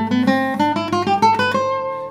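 A plucked string instrument runs a quick scale in a burst rhythm, about ten fast rising notes in short clusters with a bright ringing tone, close and alone before the last note rings out.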